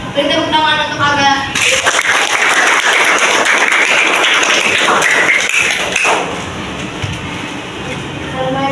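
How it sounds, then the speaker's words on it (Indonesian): A school audience of children and teachers bursts into sustained clapping for a student called up to present at a primary school digital literacy event, loud and dense for several seconds before fading, with voices over it. "Beri tepuk tangan untuk Aga."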